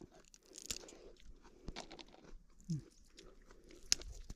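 Someone chews fresh, sweet, crunchy snow peas just picked from the garden, with close irregular crunches and bites alone against a quiet outdoor background.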